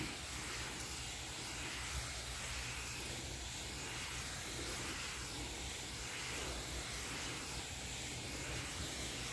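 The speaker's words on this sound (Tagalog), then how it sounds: "Power spray ang gamit natin, hindi yung napsak." A power sprayer hisses steadily while spraying insecticide over newly grown cabbages in a garden, a continuous broadband spray running throughout with a low engine-like rumble underneath and no talking.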